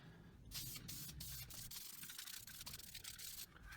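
Spray can laying a light coat of plastic paint onto a repaired plastic part, a few hissing bursts separated by short pauses, close and fairly quiet.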